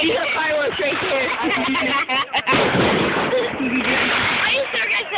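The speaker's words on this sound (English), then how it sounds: "These are fireworks right there." Fireworks bursting outdoors with loud, dense bangs and crackles, a sharp double pop near the middle, while several people talk and exclaim throughout.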